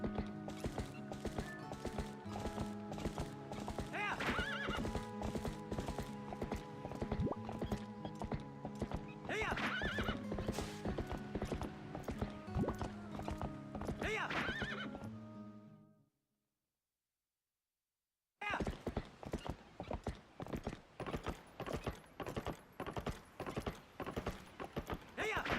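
A horse gallops and neighs in the video game Zelda: Twilight Princess, with loud, rapid hooves drumming up close, whinnies over the galloping, a brief silent gap, then clopping hooves returning in a steady rhythm.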